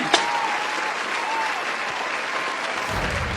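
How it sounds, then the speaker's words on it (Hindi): Audience applause at a political speech in India: steady, dense clapping from a crowd fills the whole moment, loud and continuous without a break. "इसके लिए पीयूष गोयल सर के लिए तालियां बजाई जाएं।"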